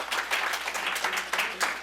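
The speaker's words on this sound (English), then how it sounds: "Give him a round of applause." An audience at a New York State executive budget meeting applauds the county clerk, a steady patter of many hands clapping indoors for about two seconds at moderate volume.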